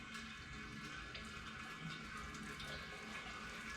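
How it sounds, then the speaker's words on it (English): Coolant drains from the radiator petcock of a 1986 Chevrolet Squarebody truck, a steady, faint trickling and splashing of liquid that runs unbroken, with no one talking. "Let that drain for a little bit."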